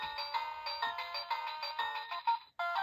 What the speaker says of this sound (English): I can just hear that bass coming through